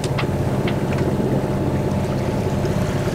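A sailboat motoring under engine power off the Spanish coast between the Basque Country and Galicia, giving a steady, close, low droning hum with some water wash and no pauses.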